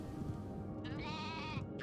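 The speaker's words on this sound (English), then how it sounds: "the sheep are terrified because they know the end times are upon them when Spyro shows up" Sheep bleat in a PlayStation video game cinematic from Spyro 2: Ripto's Rage, a wavering bleat rising clearly over a steady musical backdrop, then a second short bleat starting at the end.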